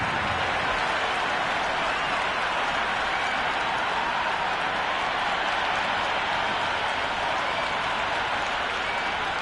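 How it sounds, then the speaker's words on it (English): Stadium crowd roaring in the Cricket 26 video game before an England versus Pakistan T20 World Cup final, a dense, loud, continuous wash of cheering and applause that holds steady throughout. "already the crowd making a hell of a racket"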